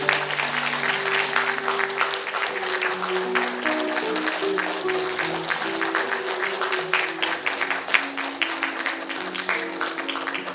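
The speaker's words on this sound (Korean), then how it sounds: "박수 부탁합니다." Sustained applause from an audience at a Korean talk concert for cancer survivors, as five guests are welcomed onto the stage; dense steady clapping runs throughout, with soft background music tones underneath.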